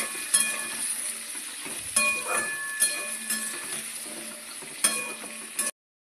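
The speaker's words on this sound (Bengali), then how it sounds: "তেল গরম হয়ে গেছে এখন আমি কুমড়োগুলো ছেড়ে দেব লাল লাল করে ভেজে নিতে" Pumpkin pieces frying in hot oil give a steady, moderately quiet sizzle with a few sharp clinks of a utensil against the pan, and no talking.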